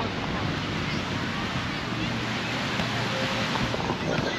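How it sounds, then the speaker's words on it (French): Wind at Marsa beach in Tunisia blows in a steady, loud rushing roar across the microphone, with a faint hint of surf and distant murmuring underneath. "Là, à cette heure-ci, il y a du vent."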